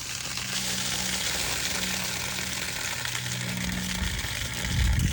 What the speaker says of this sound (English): That's releasing pressure within this housing.